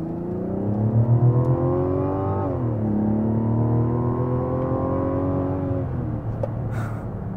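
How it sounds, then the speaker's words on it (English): A 2024 Mazda CX-90 Turbo S with its 3.3-liter turbocharged inline-six engine droning steadily while driving, its pitch climbing, dipping at a shift, then rising again, heard from inside the cabin with no talk. "This straight six sounds so good."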